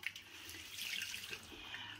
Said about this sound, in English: I like to wring my towel all the way out